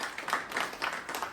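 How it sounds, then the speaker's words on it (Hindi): Applause at a kite flying association get-together in Delhi, a short burst of scattered hand clapping from a small group, faint and uneven, with no voices over it. "तालियां तालियां भाई तालियां।"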